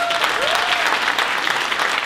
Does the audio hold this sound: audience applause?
yes